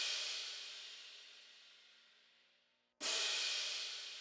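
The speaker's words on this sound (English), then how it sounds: "I just came up with this simple kind of crash kind of pattern" Two crash cymbal hits in a drill beat pattern; the first washes out in a long decaying shimmer before a second sharp crash strikes, played alone with no other drums.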